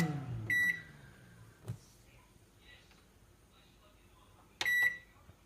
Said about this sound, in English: Use the quick function, you start microwaving straight away.